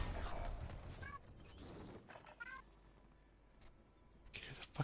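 A house cat meows in a couple of short, faint calls amid quiet room noise and occasional creaks, with a voice briefly audible.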